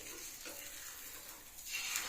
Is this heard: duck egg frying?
yes